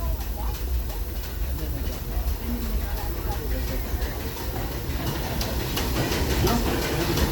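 Disneyland Railroad steam train rolling steadily along the rails, a continuous low rumble with faint rhythmic clatter throughout, beneath a narrator's voice.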